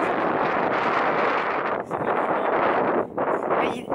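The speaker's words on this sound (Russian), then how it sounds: "Ветрено." Strong wind on a hilltop blusters steadily against the microphone, a dense roaring rush with only a couple of brief dips, loud and continuous with no voices.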